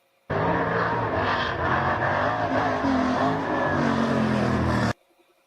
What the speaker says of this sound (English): doing what we talked about Dylan Westbrook, standing on the gas and doing some sprint car wheelies.